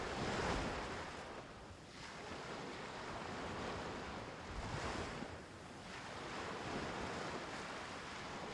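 Gentle sea waves wash ashore at Sanur beach in Bali, a soft continuous surf with slow swells rising and falling, mixed with wind rush on the microphone and no voices.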